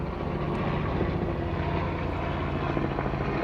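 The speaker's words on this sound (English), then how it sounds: "We'll let the plane go by." An airplane flies overhead, a loud steady engine drone with low rumbling that fills the whole stretch without pause, no talking over it.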